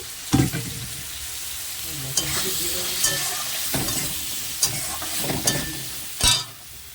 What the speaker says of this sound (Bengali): ভালো করে ভেজে নেবো চিংড়ি মাছ দিয়ে দেবো মটরশুঁটি